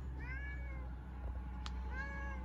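A cat meows twice, a drawn-out call followed by another after a short pause, over a steady low background hum.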